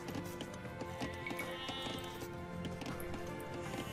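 Sheep bleating in Age of Empires 2, several short nasal bleats rising over a steady game soundscape with light clip-clop and ambient tones, moderately quiet, with faint voice at times.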